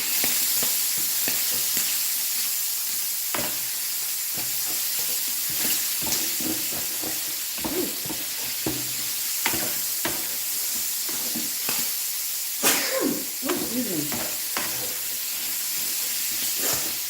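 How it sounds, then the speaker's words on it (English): Shrimp Alfredo sauce sizzles steadily in a pan, with the scrape and clack of a spoon stirring it at irregular intervals, close and fairly loud, with no talking. "I gotta hurry up and stir this because it is cooking so fast"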